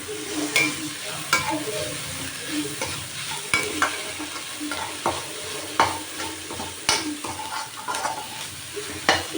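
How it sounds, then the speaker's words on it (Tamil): Green chillies sizzle in a hot pan with salt while a spoon stirs and scrapes, with irregular clinks and steady frying hiss close by. "போட்டு நல்லா வதக்கிக்கலாம்."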